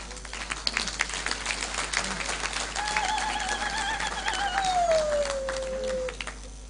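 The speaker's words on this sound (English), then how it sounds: "So a big round of applause for the president." Audience applause for the president at a Malawi Congress Party candidates' unveiling at the Lotus Hotel in Blantyre: a continuous mass of clapping with a long, high, gliding cry or whistle rising above the crowd.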